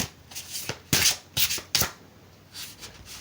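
Tarot cards shuffled and drawn by hand, heard as quiet, close riffling bursts and short papery slaps in an uneven rhythm, with no talk.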